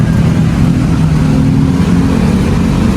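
Steady, loud low engine rumble of road traffic on a busy Manila street with many motorcycles, a continuous drone filling the whole stretch with no talk.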